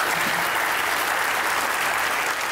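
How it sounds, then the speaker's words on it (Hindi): Studio audience at an interview show clapping together, a dense, steady wash of applause that holds at an even level throughout. "अपने लिए तालियां बजाएं प्लीज।"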